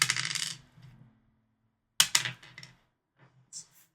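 Dice rattle and clatter across a tabletop during a Dungeons & Dragons game, in two close bursts of hard clicking that settle quickly, followed by a few faint taps.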